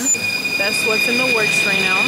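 A train rolls into a station in Paris with high metallic wheel squeals rising and falling over a steady rumble, while a person speaks briefly nearby.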